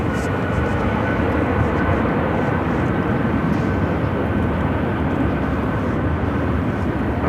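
Boeing 757-200 airliner bound for Newark taking off, a steady, loud, broadband jet roar that holds constant throughout with no break.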